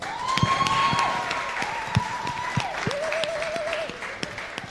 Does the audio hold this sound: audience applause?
yes